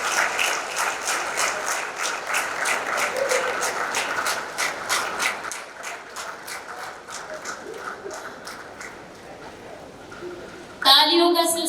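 An audience at the Champions of Change Maharashtra 2023 award ceremony claps in rapid, dense bursts that slowly thin out over about ten seconds, followed by a short stretch of amplified talk.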